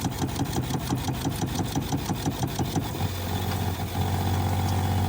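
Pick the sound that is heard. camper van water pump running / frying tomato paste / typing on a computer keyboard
camper van water pump running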